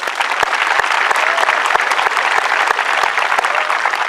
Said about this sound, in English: Please give these two young ladies another round of applause